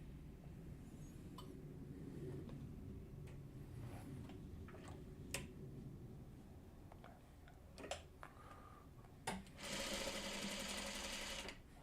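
A sewing machine stitches quilt block pieces in a steady, faint whirring hum, broken by scattered clicks and taps and a brief louder burst near the end.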